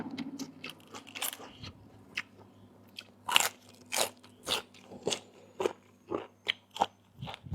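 Crisp lettuce bitten and chewed close to the mic, a series of about a dozen sharp crunches in an uneven rhythm, with quiet pauses between them.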